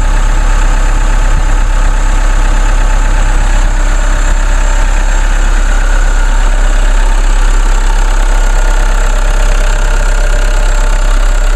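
A 2014 Chevrolet Cruze with a small four-cylinder turbo diesel engine idles with the hood open. The drone is loud, close and steady, with a slight knocking texture throughout and no talking.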